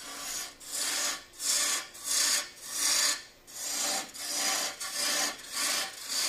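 Timber with a slight waxiness being turned on a wood lathe into a long-stem goblet, heard as a close, rhythmic run of raspy cutting strokes, each swelling and fading about twice a second, with no voices.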